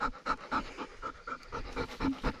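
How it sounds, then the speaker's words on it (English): A dog pushes its nose up to the camera outdoors beside a water catchment, panting rapidly and sniffing in close, loud repeated bursts with no talk. "Dog nose video bomb."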